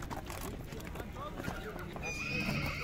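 Horses at a livestock market near Bishkek, with mares and foals in the crowd. A whinny is heard, along with hoof clops and crowd noise, and a voice speaks over it.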